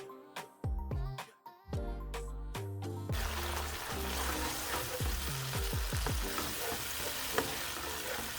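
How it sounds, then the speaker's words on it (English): Peppers and onions, with pieces of hot pepper, sizzle and fry steadily in hot oil after a few clanks of a utensil against the pan, loud and close. "just gonna let these fry up maybe for about 2 to 3 minutes"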